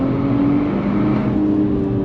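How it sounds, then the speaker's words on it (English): A modded 2025 Nissan Z Sport with around 400 horsepower pulls hard in second gear under throttle, its engine note rising in a loud, close, continuous drone. "On throttle, here we go."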